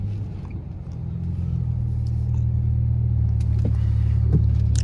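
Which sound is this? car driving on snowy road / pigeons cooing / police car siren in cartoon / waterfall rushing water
car driving on snowy road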